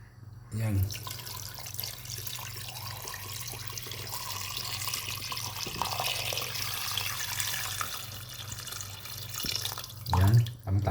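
Tap water pouring into a pot of beef broth being cooked, a steady moderate splash and trickle for several seconds, with a louder gush near the end.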